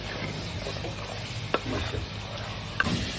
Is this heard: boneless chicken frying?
yes